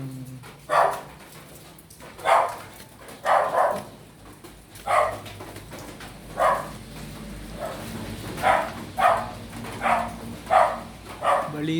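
A neighbour's dog barks repeatedly, single loud barks spaced a second or two apart across the whole stretch, fairly close, over a steady low background hum.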